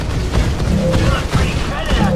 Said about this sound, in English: So many cannons.